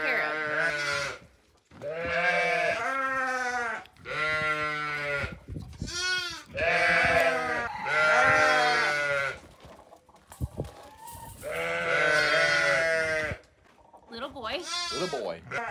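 Lambs bleating on a ranch, loud close cries repeated one after another with short pauses between, wavering and high-pitched.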